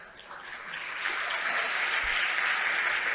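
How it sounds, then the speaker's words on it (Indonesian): An audience at a Nahdlatul Ulama gathering breaks into applause for the PBNU chairman, the clapping building quickly and then holding as steady, dense crowd applause. "Tepuk tangan untuk beliau."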